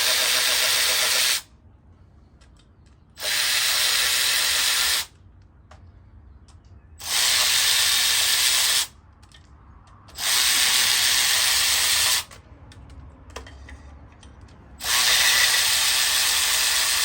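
A ratchet fitted with an E8 female Torx socket loosens the oil filter housing bolts on a 2012-2017 Jeep Wrangler, giving loud, steady clicking runs of about two seconds that alternate with pauses over a constant low background hiss.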